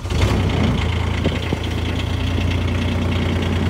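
A 2022 Club Car Carryall 1500 diesel 4x4 utility vehicle idles steadily after the key is turned on, a close, constant low diesel rumble with a few faint clicks along the way.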